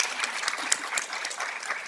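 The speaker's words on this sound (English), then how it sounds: "I just want us to applaud them for that" An audience at a panel discussion on female entrepreneurship applauds, a brief, even patter of many clapping hands heard alone.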